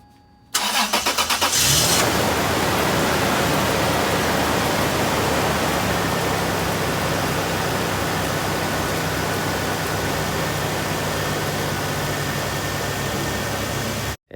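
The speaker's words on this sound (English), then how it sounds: "start the car with the radiator cap off to get rid of any air bubbles and let it run for about 10 minutes" A first-generation Toyota Tacoma engine cranks over briefly and catches, then settles into a steady, loud, close idle with a constant broadband roar, running with the radiator cap off after a radiator replacement.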